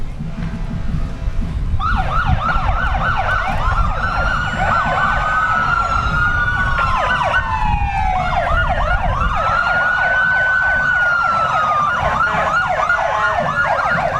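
Several police motorcycle sirens wail together at a firemen's parade, their rising and falling tones overlapping loudly and continuously after a short lead-in of crowd and street noise.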